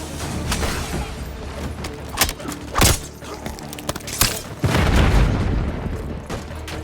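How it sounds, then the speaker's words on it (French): Grenade blast in Call of Duty Black Ops 6 amid combat, with several heavy booms and thumps in quick succession over rumbling battle noise, loud and close. "Lancez une grenade."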